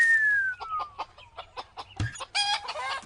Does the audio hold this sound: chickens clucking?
yes